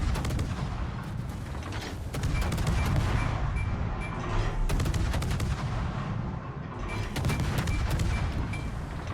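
Naval gunfire in World of Warships from a Tier 8 Japanese Akizuki destroyer, with rapid rolling booms and repeated cannon blasts layered over a constant dense battle rumble, loud throughout.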